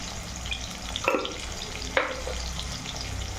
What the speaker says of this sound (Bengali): তো আমি করলাটা ভাজতে দিয়ে দিয়েছি, লাল করে ভেজে নেবো